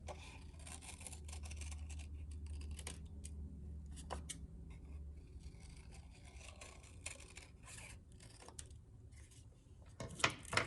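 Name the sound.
scissors cutting around a paper circle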